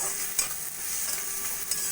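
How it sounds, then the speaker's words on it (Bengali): Grated ginger and crushed garlic frying in oil in a pan: a steady, close, hissing sizzle with a couple of soft stirring bumps, no voices. "আদা রসুন দিয়েও 2-3 মিনিট মতো ভেজে নেব।"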